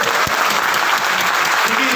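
Dense applause from a seminar audience in Mumbai fills the moment, continuous and loud, with a voice briefly audible beneath the clapping.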